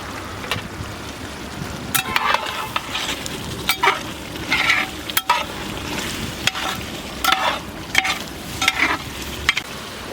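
Beef cooking in masala for biryani, a steady close sizzle and frying hiss with repeated scraping stirs of a spoon against the pot.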